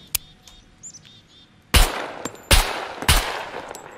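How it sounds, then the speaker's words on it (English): Suppressed AKS-74U rifle fire in the video game Scum, three loud muffled shots spaced under a second apart after a quiet stretch of faint bird chirps. "So we're going to have a look at the AKS-74U. So this is this is with the suppressor."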